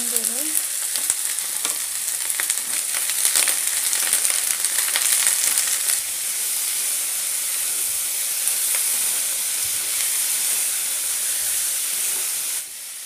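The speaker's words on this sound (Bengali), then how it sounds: "আলু আর ফুলকপিগুলোকে আমি ভালো করে ভেজে নেব" Potato and cauliflower pieces fry in hot oil in a pan, a loud, continuous close sizzle with crackles and stirring scrapes that eases slightly partway through and drops at the end.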